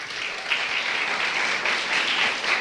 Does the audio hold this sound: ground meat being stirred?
no